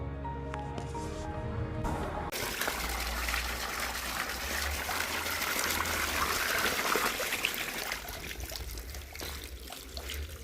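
Water pours from a new Jal Jeevan Mission village tap in Humnabad with a steady, close trickling gush, preceded by a few seconds of tonal music.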